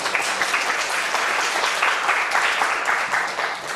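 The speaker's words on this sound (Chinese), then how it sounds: "来给他掌声鼓励一下" Lecture hall audience at an indigenous pop music talk gives sustained applause to welcome the first speaker, a thick, continuous clapping with slight swells and a gentle taper at the end.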